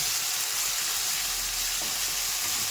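Ginger-garlic paste frying with onions in hot oil for matar ghugni, giving a steady loud sizzle with soft scraping as it is stirred.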